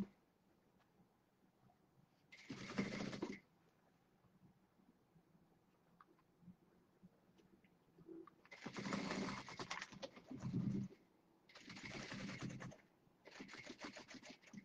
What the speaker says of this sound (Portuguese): Tô costurando aqui, hein?